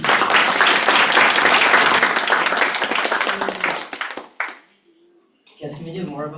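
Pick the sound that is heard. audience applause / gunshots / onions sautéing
audience applause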